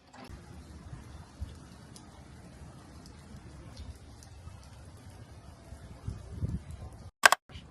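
Light rain falls during an outdoor walk in Canada, a faint, steady patter with a few brief louder rustles and a sharp click near the end.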